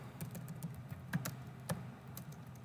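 Faint typing on a computer keyboard, a handful of soft irregular key taps with a couple of sharper clicks, quiet and close, without talk.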